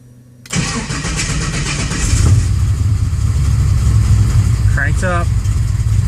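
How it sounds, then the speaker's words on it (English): A car engine cranks and catches after the key is turned, then settles into a steady running idle with a fuel-injection unit fitted; a close, loud, continuous rumble with a brief whine near the end. "So now we're going to start the car."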